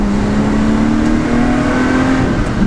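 A Lotus Exige 350 Sport engine accelerating from inside the car, loud steady rising engine drone with a strong low rumble and a climbing tonal whine over a few seconds.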